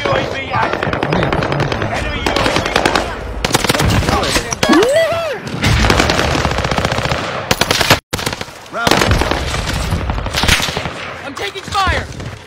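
Rapid bursts of automatic gunfire in a battle royale shooter, loud and nearly continuous across the clip with a brief gap, under faint game effects and occasional voice.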